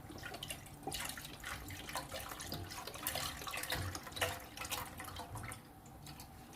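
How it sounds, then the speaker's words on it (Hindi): Milk pours into a pot while a jelly custard is being made, a soft steady liquid splashing and trickling that runs through the whole stretch, faint and close, with no talking. "दूध को इसके अंदर शामिल कर देते हैं"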